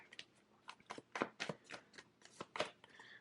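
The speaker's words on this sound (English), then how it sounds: "Let me get two more cards." Tarot cards are shuffled by hand during a reading, giving a series of soft, quick riffling snaps in an irregular rhythm, close and quiet with no talk.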